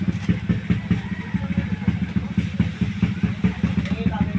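A motorcycle engine runs steadily with a rapid, throbbing idle rhythm, close and fairly loud, with some mechanical clatter.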